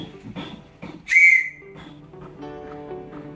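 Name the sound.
Morse code for letter E, whistled tone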